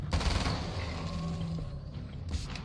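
Rapid gunfire from a heavy-recoil gun in Alan Wake's American Nightmare, a continuous burst of shots lasting a few seconds over a low rumbling background.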